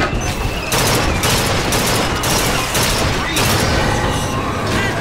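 Heavy gunfire in the video game BioShock Infinite, dense loud bursts of shots with booming impacts in rapid succession, nearly continuous across the span.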